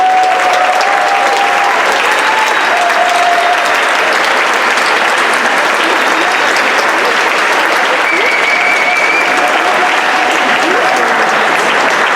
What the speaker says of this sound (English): One amazing round of applause